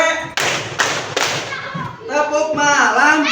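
Children clapping in a rhythmic group clapping game, several sharp unison claps in a steady beat, mixed with chanting voices that carry the pattern.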